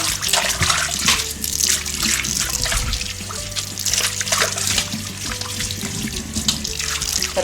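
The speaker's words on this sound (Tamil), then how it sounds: "நம்ம தண்ணியில் வெறும் தண்ணியில் நல்லா கழுவிடணுங்க" Water runs from a tap and splashes steadily as a clay pot is rinsed with plain water, a loud, close, continuous gush with shifting spatter and no talking.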